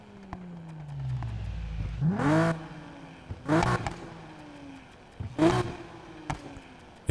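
Engine of a 2JZ-swapped VW GTI in the racing game NFS Heat, revving in three quick bursts that climb sharply and fall off, with idle rumble between the blips and no talk.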